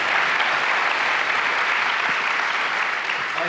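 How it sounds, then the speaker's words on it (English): An audience at a Hall of Fame induction applauds with dense, steady clapping, loud and unbroken for a few seconds, with no voices. "Let's give him a big round of applause."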